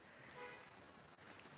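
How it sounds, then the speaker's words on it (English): Car horns honking outside, faint and distant, with a short toot rising over a low background hum of traffic. "people honking the horn out there."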